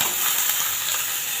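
Bitter gourd, potato and gourd peel fry in a pan with a steady, close, loud sizzle and faint stirring, with no voices.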